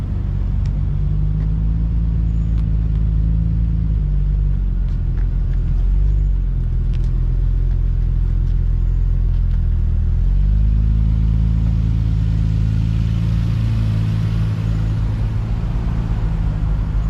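Nissan Skyline R33 cars reversing into place nearby: a loud, continuous low engine rumble with idle throb that shifts in pitch now and then as throttle changes, with no talk over it.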